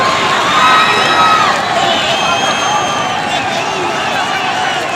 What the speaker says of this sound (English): The crowd saying, "Give us something! Wake us up!"